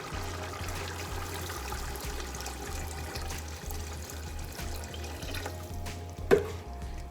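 Water pours steadily into a simmering kofta curry in a pot, a soft continuous trickling and splashing close by with a low pulsing hum beneath and one brief clink near the end.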